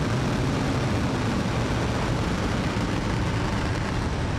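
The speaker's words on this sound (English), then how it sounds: "Ignition. And liftoff." Roaring, continuous broadband rumble from a SpaceX rocket liftoff on the SXM-9 mission, a steady heavy low-frequency thunder holding at constant loudness throughout with no talk.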